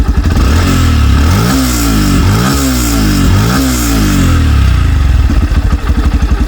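Near and loud, a well-kept second-hand Yamaha FZS V3 Deluxe hybrid motorcycle is revved in several quick rising-and-falling throttle blips, then drops back to a steady chugging idle.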